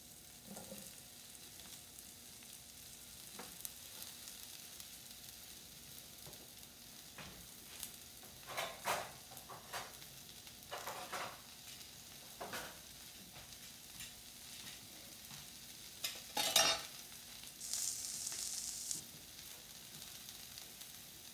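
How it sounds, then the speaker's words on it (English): Mushrooms and pork chops being lightly browned on a griddle give a faint, quiet sizzle with scattered sharper crackles and occasional stirring or scraping, and no voices. "But you just want to lightly brown these mushrooms."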